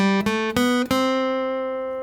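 An acoustic guitar plays a quick scale of three or four plucked notes, the last one ringing out and slowly fading, close and alone.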